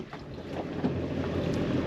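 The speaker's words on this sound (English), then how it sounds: "We're just idling out to pull the rope taut." A jet boat idles on the water, a low, steady engine rumble partly covered by gusting wind noise on the microphone, with no talk.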